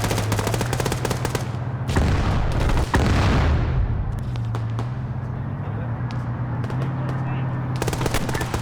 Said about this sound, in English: They're shooting us through the fucking hangar